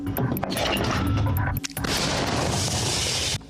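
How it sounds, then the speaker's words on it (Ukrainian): Heavy artillery firing at a Ukrainian front line, a loud sustained blast and rumble that fills the clip, briefly dipping before a second roaring burst carries on to the end. "Точність, швидкість та сила, як працює артилерія"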